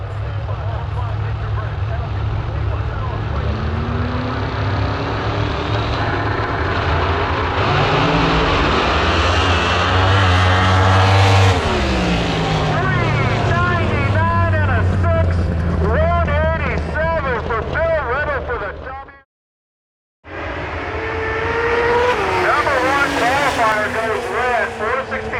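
Turbocharged heads-up drag racing cars at Milan Dragway spool up and launch, loud engine roar rising and sweeping in pitch, cutting out briefly near the end and returning, with a commentator talking over it.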